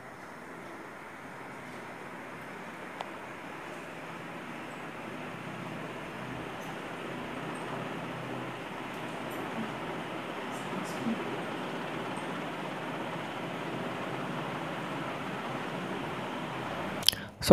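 A USHA ceiling fan, rated 385 RPM and 80 watts, spins at high speed with a steady airy whoosh that builds slightly over time. A couple of faint knocks break through near the end.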